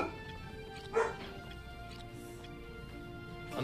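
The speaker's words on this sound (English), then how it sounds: "My dog is not happy with whatever's outside." A single sharp dog bark rings out once near the start from inside a room, reacting to something outdoors, then only a faint steady background hum remains.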